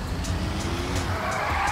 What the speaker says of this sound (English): We are ready to test out the top speed of this tow truck.